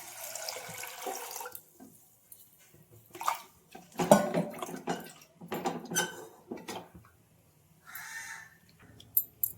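Water splashes from a tap into a pot of washed lentils in a kitchen, arriving in several irregular bursts of hissing, gurgling flow between short quiet gaps, with light clinks of the pot.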